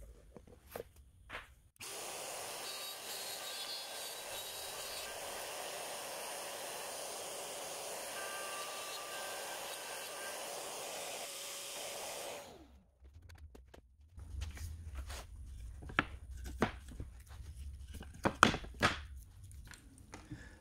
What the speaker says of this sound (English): I think shaper, origin, and plate should make quick work of that.